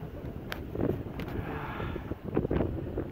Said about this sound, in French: Sous grand voile seul, puisque j'ai toujours pas de génois.